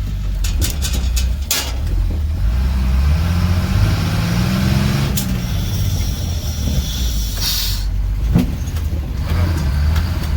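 Prewar GM Silversides bus with an air-shifted transmission driving, a steady low engine drone with the pitch rising and falling through the gears, plus occasional rattles and hisses close by, with no talk.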